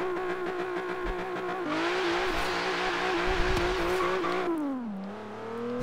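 Hyundai Genesis engine in the Forza racing game revving up through the gears, the pitch climbing, dropping at each shift and climbing again in a steady whine, fairly quiet with no talk.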